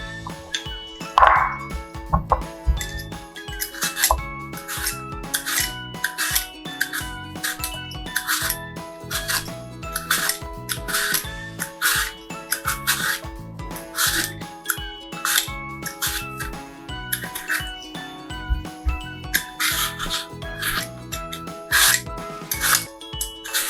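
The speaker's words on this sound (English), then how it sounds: "take my apples and peel them first" Apples are peeled by hand for apple pie cookies, giving a long run of rapid, close rasping scrapes and crisp strokes in an uneven rhythm, with occasional light clinks and no talk.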